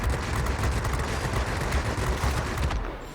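Machine guns fire in rapid, unbroken bursts in the video game World of Warplanes, a loud dense rattle from a Yak-15 jet fighter, steady throughout.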